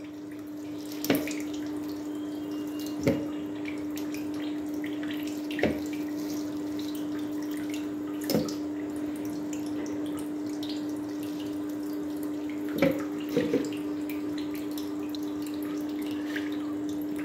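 Squeezed mint water drips into a jug in a quiet kitchen, six or so distinct, separate drops falling every couple of seconds over a steady low hum.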